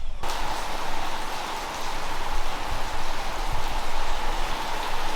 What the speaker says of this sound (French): je sais pas si vous entendez la pluie qui tombe, c'est impressionnant